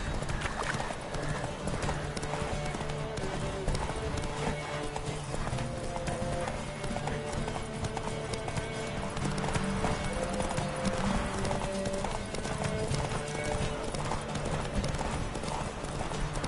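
Horse hooves gallop in a PS4 video game with a steady, continuous clip-clop rhythm, dense and unbroken through the whole stretch, under a layered game soundscape of ambient noise and occasional whinnies.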